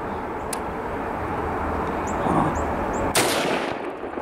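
A single loud rifle shot fired while deer hunting outdoors, a sharp crack followed by a long rolling echo and steady background rumble.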